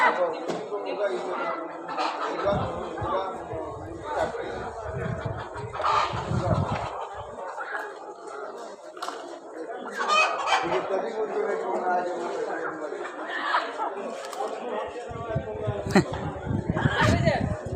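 Chickens cluck and chatter continuously nearby as a person talks over them.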